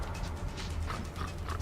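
A dog whimpers and yips in Metro Exodus, short high whines rising over a dense, steady game background at moderate volume.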